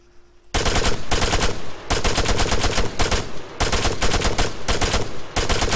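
Automatic rifle in Arma 3 firing full auto: loud, close bursts of rapid shots after a brief quiet start, each burst a dense rattling string separated by short pauses, with no talking.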